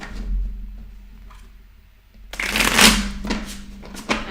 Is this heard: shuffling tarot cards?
yes